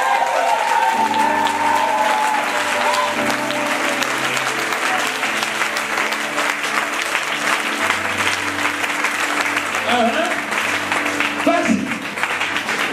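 A church congregation applauding, dense sustained clapping that stays loud and steady throughout, with voices and sung or shouted tones mixed in underneath.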